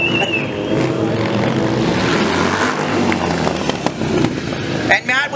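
A 1200 cc Harley Sportster doing a sidewall burnout at a motorcycle stunt show, its engine roaring steadily and loudly throughout amid a noisy crowd, with a brief sharp burst near the end.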